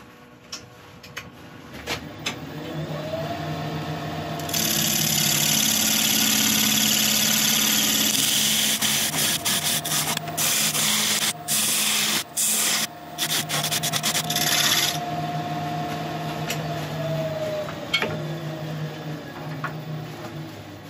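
A wood lathe hums steadily while a skew chisel scrapes and cuts spinning yew wood in a long, loud grinding pass with brief interruptions, then the motor winds down.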